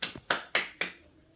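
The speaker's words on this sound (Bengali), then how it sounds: "হাততালি।" Four sharp hand claps ring out in an uneven sequence, each crisp and close with a short decay, then quiet.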